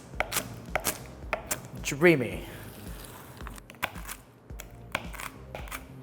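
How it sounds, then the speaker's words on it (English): Cooled salted butterscotch toffee snaps and cracks into chunks by hand in a home kitchen, sharp irregular breaks close by, with brief talk in between. "Now that my toffee has sufficiently cooled, I'm going to just break this up into probably about similar sized chunks"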